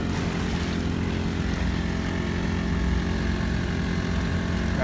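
A Honda 35cc engine drives an Expandacraft boat cruising just above idle, a loud continuous buzzing drone with steady propeller-like roar, no talking, close to the listener throughout.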